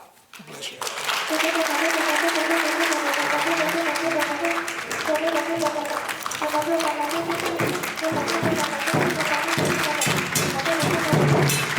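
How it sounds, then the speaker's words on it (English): An audience bursts into sustained, dense applause that fills the room for several seconds, with cheering and voices mixed in; a brief spoken remark is heard at the start. "Let's give him another round of applause, please."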